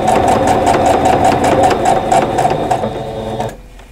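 A sewing machine stitches a Christmas quilt top in a fast, steady mechanical whir at close range, running for several seconds before stopping abruptly near the end.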